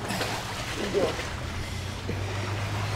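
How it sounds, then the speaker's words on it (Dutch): A boat motor drones steadily at a moderate distance over lapping water and breeze, with a low hum running throughout. "Nog een boot."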